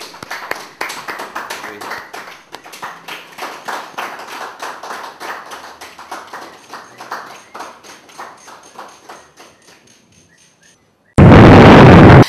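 Church congregation claps in rhythmic, sharp bursts that gradually thin out and fade, followed by a sudden loud blast of noise at the end.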